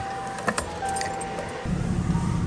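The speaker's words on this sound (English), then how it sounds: "I'm gonna start the truck." Keys jangle briefly near the ignition of a truck, then the engine starts and settles into a steady low idle rumble inside a warm cab.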